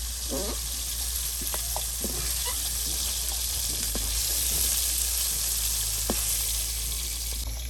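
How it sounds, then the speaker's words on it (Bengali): Rita dried fish frying crisp in hot oil, a dense continuous sizzle close up, with occasional spatula scrapes and stirring knocks, steady and loud for the whole stretch. "একদম মচমচে রিটা শুটকি ভেজে নেওয়া হলো"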